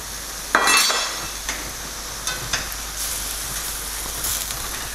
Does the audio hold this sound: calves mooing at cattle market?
no